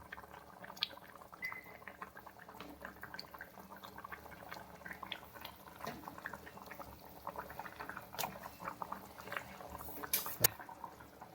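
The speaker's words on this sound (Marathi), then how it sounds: "आता याला मस्त शिजू, थोडंसं आटू देत." Crab curry with kokum simmers in a pot, making a soft, steady bubbling with scattered small pops and faint clinks, quiet and close, with no talking.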